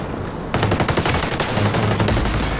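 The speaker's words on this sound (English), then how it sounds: "He's shooting at me." Rapid automatic gunfire from the tactical shooter Ghost Recon Breakpoint, a dense, loud burst of machine-gun shots that starts abruptly after a brief quiet moment and keeps rattling without pause.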